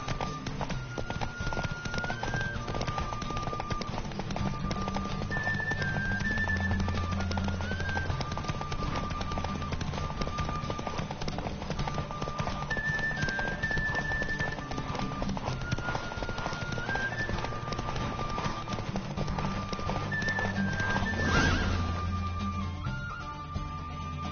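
Roach, a horse in The Witcher 3, galloping in a race, steady clip-clop hoofbeats under continuous game music, with a brief louder swell near the end.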